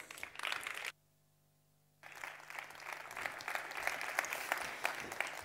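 An audience applauds a speaker being welcomed to the stage at a library talk, clapping steadily. A brief dropout near the start cuts the sound to near silence before the applause resumes and swells.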